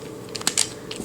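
Bubbloid 4x4x5 twisty puzzle being turned, quick close plastic clicks and clacks in a short irregular cluster of a few taps.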